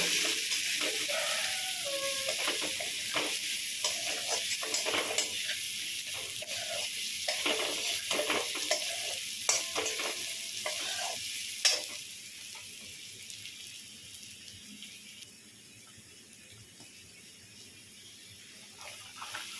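Ground spices sizzle and fry in hot oil in a pan while being stirred, for a home-style Bengali chal kumro dish with fish head; steady close sizzling with scraping stir strokes, fading slightly toward the end, no talk.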